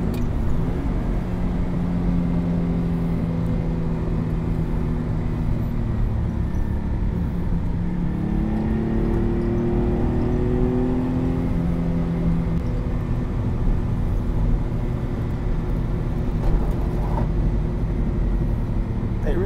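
A Ferrari Dino 246 GTS engine pulls under acceleration while driving, a steady droning growl whose pitch rises and falls through the gears, heard from inside the car at an even, loud level.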